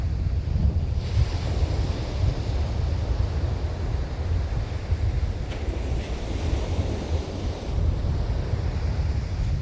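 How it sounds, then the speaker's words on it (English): Strong wind gusts buffet the microphone on the Holderness coast at Easington, a continuous roaring rumble with surf beneath it, surging and easing in waves with no voices. "that wind, bloody hell, it's strong as anything now"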